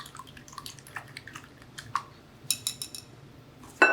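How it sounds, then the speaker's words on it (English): An egg is whisked in a bowl while making Taiwanese milk bread, giving faint, scattered light clinks and taps, with a brief quick run of clicks near the end. "we're going to take an egg here and whisk it"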